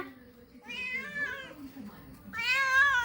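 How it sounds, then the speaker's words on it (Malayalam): Two cat meows, a drawn-out one followed by a brighter, higher cry after a pause, close by, with faint background voice. "ഇതാണ് എൻ്റെ കിറ്റിപ്പൂച്ച"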